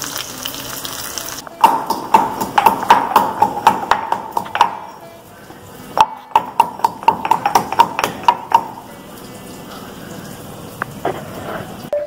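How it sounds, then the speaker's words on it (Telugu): Garlic and ginger pieces are pounded in a mortar in a home kitchen, giving rapid bursts of sharp, ringing knocks in two runs with a pause between, then a few scattered taps. "వీటిని ఇప్పుడు దంచి తీసుకొస్తాను."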